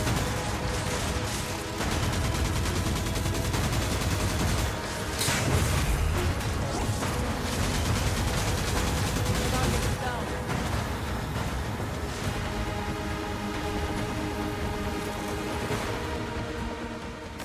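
Gunfire in the video game Destiny: Rising: rapid, dense shots and crashing impacts layered with whooshing effects, loud and sustained over a busy game soundscape.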